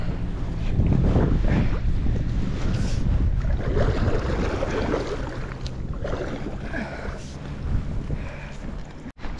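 Wind on a river at night during a paddleboard trip rushes and buffets against the microphone in a steady close roar, with faint water movement underneath and no talk.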